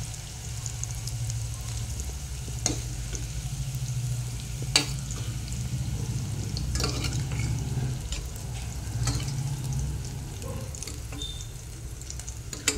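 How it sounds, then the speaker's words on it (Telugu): Ingredients for a bitter gourd tamarind curry fry lightly in a pan with a steady, close sizzle, punctuated by a few sharp clicks of a utensil against the pan; no one speaks. "ఇది కొంచెం వేగిన తర్వాత ఇట్లా వేగాలి, కొంచెం లైట్గా అంతే"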